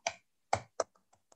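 A few sharp keystrokes on a computer keyboard while entering a drafting command, with three louder taps and then softer ones, close and alone with no talk.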